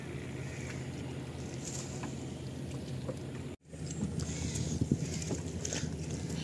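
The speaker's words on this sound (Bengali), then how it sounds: "সে নৌকা পরিচালনা করছে" A boat on the flooded Padma River during a fishing trip moves along with a steady low hum and soft water wash, fairly faint, interrupted by a brief dropout.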